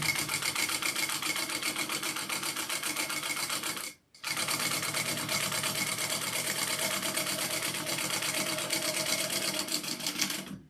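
Sewing machine quilting a Cupid Crossbody bag, a fast steady close whirring stitch that runs continuously, stops for a brief moment near the middle, then resumes.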